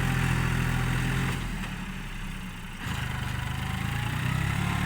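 A loud, steady diesel engine of a New Holland TT3.50 tractor pushing clay soil rumbles close by, dipping briefly in the middle before returning to full strength.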